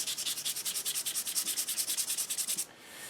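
Rapid, even back-and-forth strokes of 220 grit sandpaper on an HW30 air rifle stock, about ten rasping passes per second, close and steady, then stopping abruptly.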